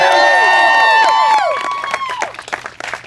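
Wedding guests on the groom's side cheer and whoop loudly together, a burst of overlapping shouts and high voices that fades after a second and a half into scattered clapping and chatter.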